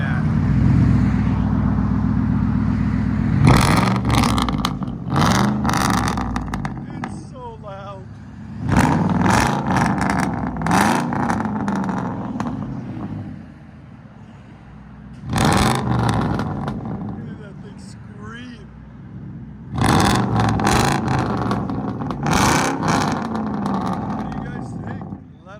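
Straight-piped 2004 Ford F-150 with a 5.4L Triton V8 idling with a deep rumble, then repeatedly revved in loud, raspy bursts that rise and drop, with people talking in between.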